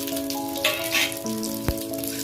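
Black mustard seeds, dried red chillies, a bay leaf and ginger sizzle in hot oil for a Bengali dal, a steady crackling hiss with occasional sharper pops and a faint stir partway through.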